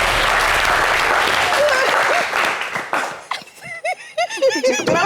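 Loud, dense applause and some laughter from a studio audience at a French TV entertainment show, lasting about three seconds before it breaks off and voices take over.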